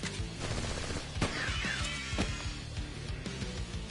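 Gunfire in the video game Soul Hackers 2: several sharp shots and bursts over a busy game soundtrack, loud and close, with a brief whooshing effect in between.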